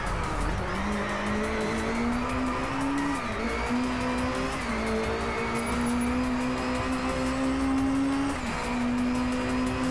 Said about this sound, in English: the engine noise is fairly high-pitched